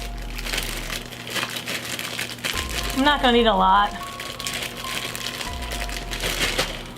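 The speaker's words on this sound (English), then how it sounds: "I'm going to take some chocolate and put it into a little plastic bag, kind of break it up" Plastic crinkles and rustles as something inside is snapped into pieces, close by, while a person talks briefly over it.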